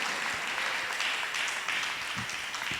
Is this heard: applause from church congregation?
yes